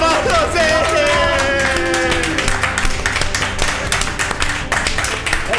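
Crowd applause at an esports grand final, dense rapid clapping building as shouting voices fade, loud and sustained with an arena feel.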